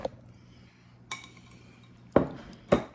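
Utensils clink against a bowl while drained pineapple is stirred into coleslaw, a few sharp scattered knocks and scrapes over a quiet kitchen background.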